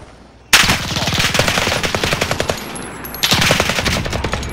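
Light machine gun fire in a multiplayer shooter game, two loud sustained bursts of rapid shots, the first running about three seconds and the second starting after a short pause.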